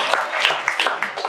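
An audience at a hemp food nutrition talk cheers and applauds, a short burst of loud clapping and whooping with no speech over it.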